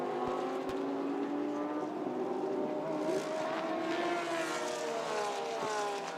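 Porsche GT race cars of the Fanatec GT Asia 2024 series roar around Chang circuit, several engines overlapping with rising and falling pitch as the cars pass at full throttle, loud and continuous with no pause.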